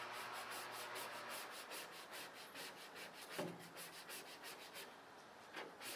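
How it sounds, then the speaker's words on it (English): A card rubbed across a vinyl logo decal on a Dodge M37 body gives a steady, close, faint scraping hiss in quick repeated strokes, with a brief thump near the middle. "take your card and just rub it out"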